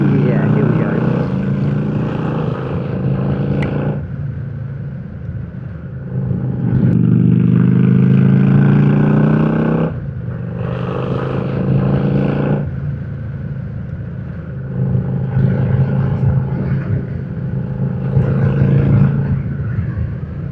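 A Kawasaki Drifter VN 800 motorcycle engine rumbles while riding, dropping a gear around a bend, with the tone shifting between throttle-off dips and louder pulls; a rider talks over parts of it.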